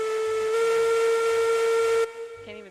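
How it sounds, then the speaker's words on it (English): A steam locomotive whistle in a railroad video game blows one long, loud, steady tone that cuts off sharply, followed by softer fading hiss and rumble. "Can you hear my whistle or no?"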